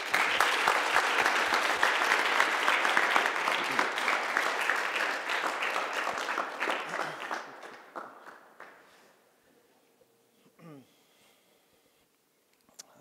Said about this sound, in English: So, last round of applause will be for all of these people.